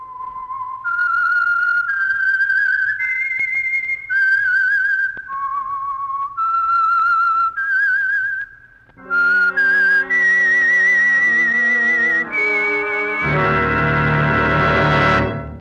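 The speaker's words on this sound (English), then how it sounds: "That whistle is your signal for the Signal Oil Program, The Whistler." A lone whistler carries the eerie theme signal of The Whistler radio drama, a clear melody of sustained, wavering notes with brief pauses, before a full orchestra swells in beneath and takes over at the close.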